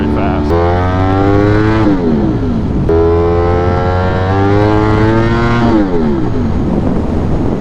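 A motorcycle held in first gear on a road screams at about 8,500 to 9,000 RPM, its loud engine note climbing and dropping in pitch through repeated rev sweeps for the whole stretch, with no talking.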